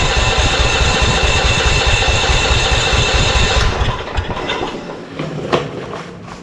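An engine cranks over with the throttle open during a compression test, with a steady rapid churning drone that stops partway through and leaves faint clicks and rattles.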